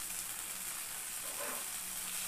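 Onion, tomato, black cumin and green chillies sizzle in oil in a frying pan, making a steady, soft, continuous hiss with no pauses or voices.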